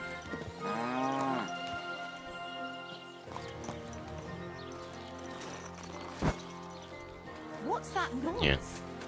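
A cow mooing while out mushroom picking, a long drawn-out low moo near the start followed by quieter lowing, with people talking nearby and some rustling and knocks later on.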